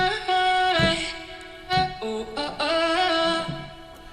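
A melodic hook from the Arcade sample instrument plays bright, sustained, chopped tonal notes that change pitch in short phrases, loud and with no talking.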